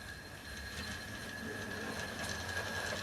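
A Hornby LMS Compound model locomotive with Fowler tender pulls carriages away with some wheel slip, giving a faint, steady mechanical whirring and ticking with a constant whine throughout.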